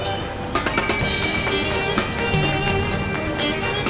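A mobile phone rings close by after being called so that it can be found, a repeating electronic ringtone melody that plays steadily over a low background hum, with no speech.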